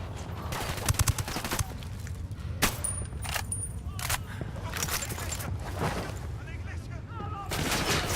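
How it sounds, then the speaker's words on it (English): Gunfire crackles through a firefight in the video game Ghost Recon Wildlands, with repeated sharp shots and bursts spread across the scene over steady background noise, and some voices mixed in. "Opening fire on these fuckers."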